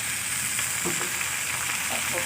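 Water spinach greens hitting a pan of frying onions and shrimp, producing a loud continuous sizzle with soft stirring scrapes throughout.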